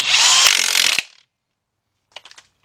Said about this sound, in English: I'm using the DeWalt. Go ahead and tighten up that bolt.